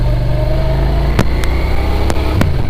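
A V-twin motorcycle engine hums steadily while riding, a loud low rumble mixed with wind noise, broken by a few sharp clicks or knocks.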